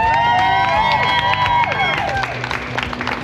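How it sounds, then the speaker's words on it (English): A crowd at a new shop's grand opening applauds and cheers, loud clapping mixed with voices and tonal sounds ringing over the top, with no gap. "So give a round of applause."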